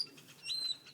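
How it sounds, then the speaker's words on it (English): Grackles call from the background of an urban backyard farm with a rabbit hutch and chicken coop, giving a brief, faint high whistle with a little rustle around it. "those are grackles that you hear in the background"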